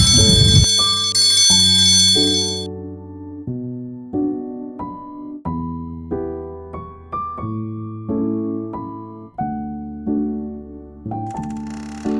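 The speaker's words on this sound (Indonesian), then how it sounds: "bel di sada lebet kelas" A school bell rings for the start of class as a melodic chime, steady bell tones stepping through a tune one after another, loud and close with no talk.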